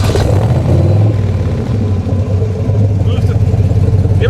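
A De Tomaso Pantera engine, largely original, revving with a loud, steady low rumble that swells slightly, close and continuous throughout.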